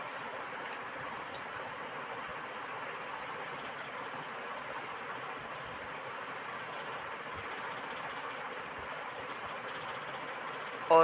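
A sewing machine stitches a belted salwar with a steady, continuous mechanical whirring and clatter, fairly quiet and unbroken for several seconds.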